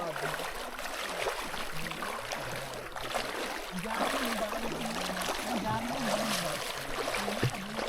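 A cold mountain river with mossy, slippery stones rushes and gurgles steadily close by, a constant bright wash of flowing water with occasional splashes, while a voice talks over it.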